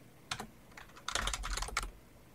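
Keys tapped on a computer keyboard: one isolated press followed by a quick burst of several clicks, close and crisp against a quiet room, no speech.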